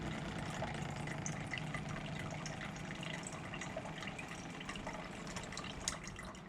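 Water running from a reverse osmosis filter system with its pump, a steady close hiss and trickle with scattered drips, continuous and unbroken.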